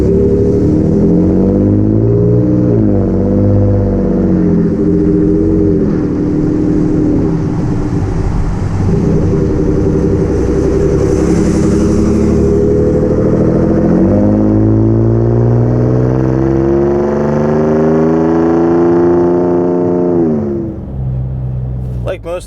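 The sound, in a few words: Ford F-150 Raptor engine with Ford Performance cat-back exhaust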